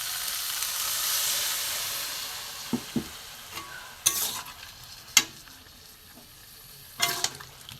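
Water poured into a pan of frying jackfruit and shrimp, a broad steamy sizzle and hiss that swells then eases, with scattered clinks and stirring knocks from a utensil close by.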